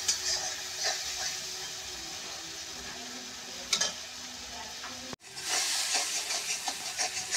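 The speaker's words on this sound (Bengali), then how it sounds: "এবার ভালো করে মশলা কষে নিয়ে পরে জল দেবো।" Spices fry with cashew and poppy seed paste in a pan for a Bengali katla fish kalia, a soft continuous sizzle with intermittent stirring scrapes, a brief pause, then louder sizzling.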